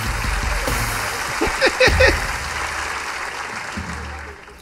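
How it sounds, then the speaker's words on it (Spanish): An audience at a comedy talk show gives a broad wash of applause, a moderately loud steady clatter that swells briefly in the middle and then tapers off. "un aplauso para él"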